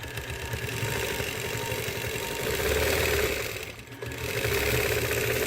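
A sewing machine stitches a quilt along a ruler, a continuous mid-pitched motor whir with rapid needle chatter that dips briefly before resuming at full speed.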